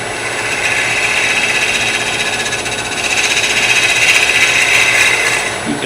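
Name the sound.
wood lathe making a cleanup cut inside a wooden lid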